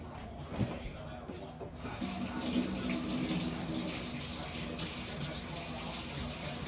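Mountain Dew soda pours steadily into a glass, a continuous close fizzy splash that fills the whole stretch with a gentle hiss.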